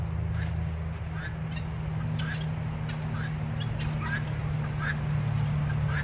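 Guinea fowl give short, repeated chattering calls at a moderate distance over a constant low rumbling hum, the cries coming in an irregular series across several seconds.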